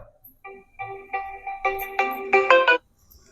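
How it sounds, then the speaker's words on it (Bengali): Mobile phone ringtone plays close and alone as a rising series of bright electronic melody notes, getting louder over a few seconds before stopping. "কে যেন ফোন করছে"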